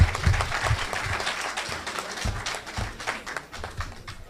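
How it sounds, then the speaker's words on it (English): An audience at a symposium applauds in a steady wash of clapping that fills the room. It is fairly loud and close, with no voices over it. "Let's give him a round of applause."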